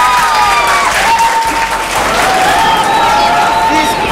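Audience at a school event for pupils of Nerses the Great School No. 4 applauding, loud continuous clapping from a sizable crowd, with a voice speaking over it.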